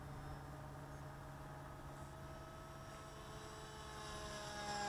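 HobbyKing Bix3 RC plane at full throttle flying into the wind, a steady electric motor and propeller whine that holds level and swells slightly as it nears at the end.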